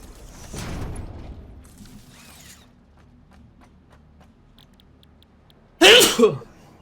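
A person sneezes once, a sudden loud burst near the end after quiet mechanical clicking and faint background sounds during a game of Satisfactory.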